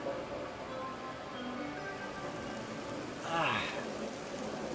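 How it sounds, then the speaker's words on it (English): Steady rain falling outdoors makes a dense, even hiss that swells louder near the end, with faint indistinct voices in the background. "why is that rain getting so loud?"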